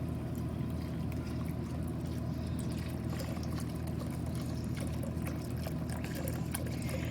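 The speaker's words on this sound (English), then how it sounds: "So now we're going to add in 4 cups or 1 quart of beef broth." Beef broth pours into a pot on the stove, a steady low gurgling trickle that runs continuously at moderate volume with no talking.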